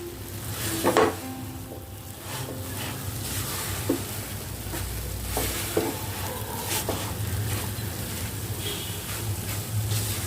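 Jaggery, sesame and peanut mixture being stirred with ghee in a pan for a chikki, a steady low sizzle overlaid with repeated scraping and knocks of a spoon against the pan, close and without speech.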